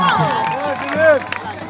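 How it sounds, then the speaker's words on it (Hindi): Crowd at an outdoor wrestling dangal in India claps and murmurs in a short burst, with loud voices and cheering calls over the clapping. "तालियां बजा दीजिए"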